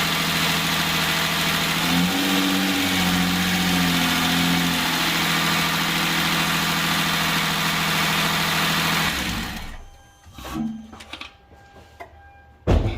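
Hyundai Genesis 3.8L engine running steadily at a loud, close idle with a brief rise in pitch early on, then cutting off abruptly and leaving faint clicks and rattles.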